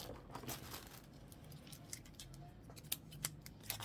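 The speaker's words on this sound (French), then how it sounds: "Les ciseaux." Small scissors snip in quick, sharp clicks, scattered and faint, with light crinkling of packaging from a clothing haul between the cuts.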